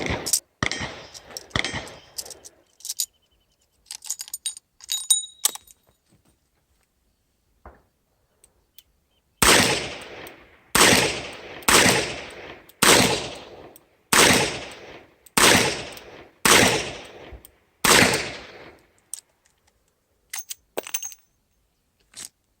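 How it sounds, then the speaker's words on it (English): A Smith & Wesson 327 PD revolver fires a string of about eight sharp, loud shots in a steady rhythm, each ringing briefly before the next. Fainter clicks and handling sounds of loading come first. "We'll shoot them and see how it goes."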